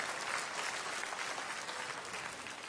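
Applause from a conference audience filling a church or lecture hall, steady and dense throughout, loud and sustained with no voices over it.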